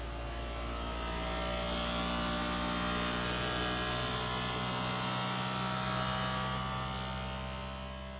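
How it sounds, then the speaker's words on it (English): A Creality K1C 3D printer homing and running input shaper calibration gives off a steady, loud electric hum and buzz that holds level throughout, close by and alone with no talking. "It's going to home the machine, then start input shaper calibration."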